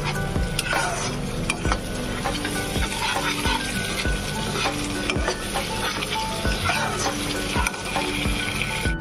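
Masala for fish rezala sizzles steadily in oil over a gas flame on medium-low, with a spoon scraping and stirring through the loud, continuous frying.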